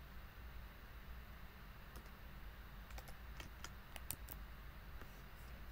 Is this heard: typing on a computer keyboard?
yes